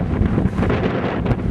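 Cold wind blasting into a microphone beside a desolate mountain highway, a loud continuous low rumble with uneven buffeting gusts and no voices.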